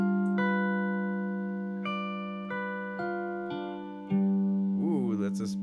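A guitar picks out a dominant seventh chord one note at a time, each clean, sustained tone joining the others and ringing together, close and fairly quiet.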